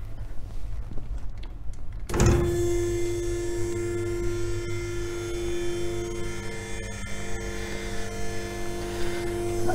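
A homemade electric hydraulic tube bender driving a double-acting cylinder starts up, its motor and pump jumping from near silence to a loud, steady hum with a constant whine that runs on alone.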